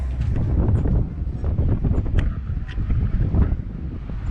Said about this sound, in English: It's very breezy up here.